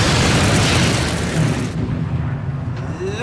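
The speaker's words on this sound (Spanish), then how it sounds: "en ese momento se oyó un estallido impresionante" A torpedo explosion from a wartime sea convoy bursts loudly as a sustained broadband roar, then cuts off abruptly into a lower rumbling tail.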